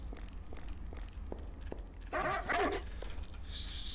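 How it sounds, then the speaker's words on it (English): A dog in the video game Kingpin: Life of Crime lets out a short burst of barks over low game ambience, preceded by light rhythmic footsteps, with a hiss rising at the end. "There's a dog."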